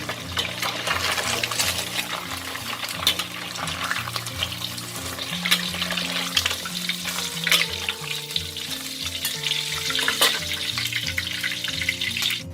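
Tofu fries in hot oil with a steady, loud crackling sizzle throughout, up close, with occasional sharper pops and bubbling bursts.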